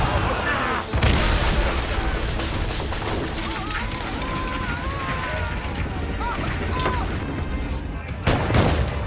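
Volleys of musket gunfire in an ambush from the video game Assassin's Creed Rogue. Shots crack out repeatedly over a dense, sustained battle din, with a sharp loud burst near the start and another near the end.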